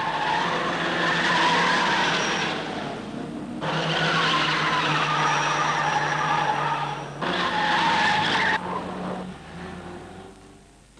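Tyres squeal and skid in long bursts as a 1965 Isuzu Bellett race car spins out at the Sandown six hour race, the screeching loud and close with brief gaps between surges.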